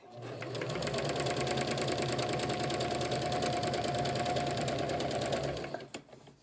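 A Kenmore 385 sewing machine runs decorative stitch number 10 in one continuous, steady motor whirr with a fast, even needle chatter, close and loud, before stopping abruptly near the end.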